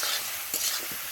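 Vegetables with spices being stirred in a pan, a brief, steady hissing sizzle with a couple of soft scraping strokes.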